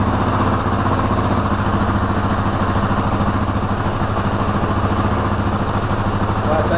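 A Yamaha Raptor 350 ATV engine runs steadily with its airbox removed, a loud, continuous close-up idle with a rapid, even pulsing throb and mechanical vibration throughout.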